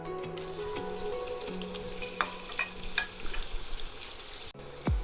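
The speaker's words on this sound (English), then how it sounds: "So here I've added oil, and in this I'm going to add half sliced onion." Sliced onion sizzles steadily in hot oil for a tadka, with a few stirring scrapes and clinks over the constant frying hiss, close and moderately loud.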